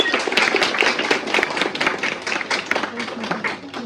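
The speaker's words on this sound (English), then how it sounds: "a big round of applause for all of them" Applause for nurses at a Nurses' Day gathering, a cluster of individual claps from a small group, fairly close and uneven, tapering slightly toward the end while a faint voice murmurs underneath.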